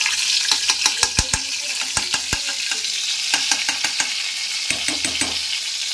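Ghee sizzling and crackling in a hot pan, a steady frying hiss with sharp spattering pops in irregular clusters, close and fairly loud, no talking.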